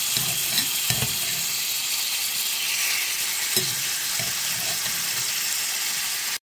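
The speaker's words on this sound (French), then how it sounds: "dans une petite casserole, j'ai de l'huile qui est en train de chauffer et je vais ajouter ma viande à l'intérieur" Beef frying in hot oil in a small saucepan, a steady loud sizzle with occasional pops and crackles throughout, no voices.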